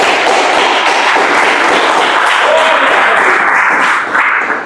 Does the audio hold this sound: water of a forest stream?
no